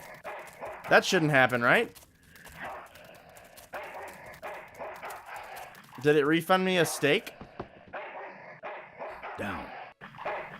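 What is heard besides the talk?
dog barking in video game Full Throttle Remastered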